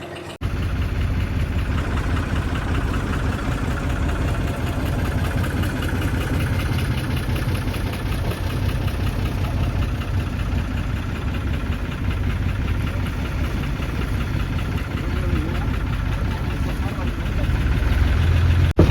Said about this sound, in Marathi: चालू झाली आपली होडी